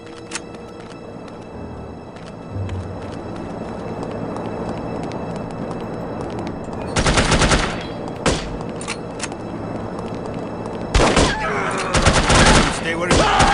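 Gunfire bursts in the 2000 first-person shooter The Operative: No One Lives Forever, loud volleys around seven and eleven seconds over a busy game backdrop with some voice.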